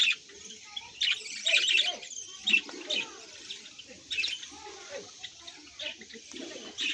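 A small breeding colony of about five pairs of budgerigars with eggs and chicks gives off scattered bright chirps and twitters, close and moderately loud, over a soft rustling background.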